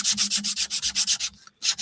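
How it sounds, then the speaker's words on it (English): A heavy prop blade's back side is sanded by hand in quick, regular back-and-forth strokes, about a dozen close rasping passes with a brief pause before two more. "The back side of it I'm sanding right now so that I can glue it down"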